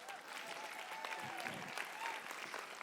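Steady applause from an audience, dense and continuous clapping throughout, with some crowd voices mixed in.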